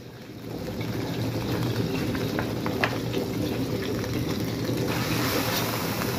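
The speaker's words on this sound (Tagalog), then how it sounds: "Gisahin lang, gisa lang." Garlic sautés in a wok over medium heat, giving a steady, even sizzle and hiss that runs without a break for several seconds, with no talking.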